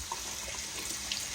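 Cold tap water runs steadily into a kitchen bowl being filled for cooling eggs, a continuous close hissing splash with no talking.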